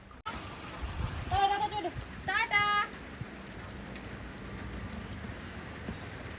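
Steady rain patters outdoors during Janmashtami, with continuous soft wash under short bursts of nearby voices.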